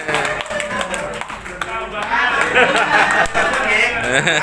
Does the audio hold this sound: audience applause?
yes